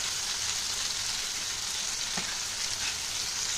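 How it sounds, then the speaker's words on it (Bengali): Hilsa fish head and vegetables, bound for a dish with Malabar spinach, sizzle steadily in hot oil, a dense, even crackle that fills the whole stretch without pause and with no voices. "তো এবার সবজিগুলো ভাজা হয়ে যাবে"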